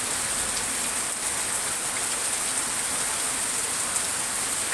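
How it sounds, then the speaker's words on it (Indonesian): Heavy rain pours steadily in Cikarang, Indonesia, with strong wind, making a dense, continuous hiss of drops striking surfaces close by, loud and unbroken with no voices. "Emang benar-benar deras ini hujannya."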